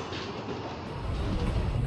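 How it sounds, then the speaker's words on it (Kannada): A train pulls out of Chitradurga railway station, a broad low rumble building slightly as it gains motion, heard from aboard with no talk. "ಫ್ರೆಂಡ್ಸ್, ನಮ್ಮ ಟ್ರೈನ್ ಈಗ ನಮ್ಮ ದುರ್ಗ ರೈಲ್ವೆ ಸ್ಟೇಷನಿಂದ ಹೊರಟಿದೆ."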